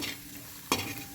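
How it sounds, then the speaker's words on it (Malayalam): Food sautéing in a pan after salt is added, a soft steady sizzle with a brief louder scrape of stirring near the end, alone and fairly quiet. "ഇങ്ങനെ ഇത്രയ്ക്ക് വഴറ്റണമെന്നൊന്നുമില്ല, പക്ഷേ ഞാൻ നല്ലോണം വഴറ്റി."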